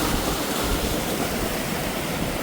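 A mountain stream rushes steadily, a dense, loud, continuous wash of flowing water close by with no pauses.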